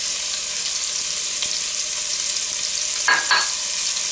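Onion for a lamb stew sizzling in a pan, heard as an even, fairly loud hiss with faint ticks and a brief scrape near the end.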